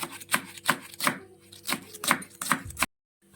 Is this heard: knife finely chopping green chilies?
yes